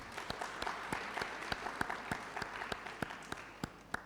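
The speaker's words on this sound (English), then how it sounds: "So can you just give yourself a round of applause, please?" Audience applause at a university launch event for a Gauteng Department of Human Settlements research chair: a steady wash of clapping from a modest crowd, with sharp individual claps standing out at a regular rhythm, fairly quiet and without talk.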